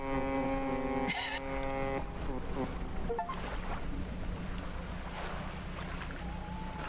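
A fishing boat's foghorn sounds in the video game Dredge, opening with a strong, sustained horn blast that cuts off abruptly and gives way to wind and lapping water beneath softer game sounds.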